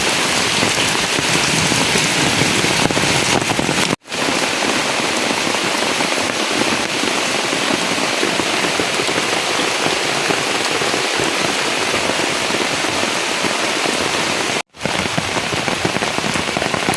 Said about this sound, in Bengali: তা আজকের মতো বৃষ্টি এর আগে একবার হয়েছিল, আজকে আবার হইতেছে।